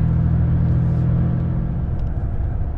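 A truck rolls along a narrow country road with a steady low engine rumble and road drone close by, continuous and fairly loud, with no talking.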